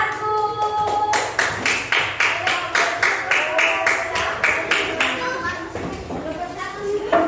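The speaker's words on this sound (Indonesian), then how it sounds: "Oke, tepuk tangan buat kelompok 1." Children in a classroom clap for group 1 in a regular, evenly spaced rhythmic beat, the claps steady and fairly loud, with young voices calling out over them.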